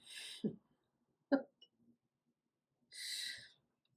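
A crow outside a window gives two hoarse, broad-band caws separated by a few seconds of quiet, with a brief low thump in between; the calls sound moderately distant, as if from outdoors.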